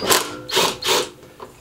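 A socket wrench fitted with a large socket ratchets while loosening bolts on an old clothes dryer being scrapped, giving three quick close clicking bursts and then a faint final click.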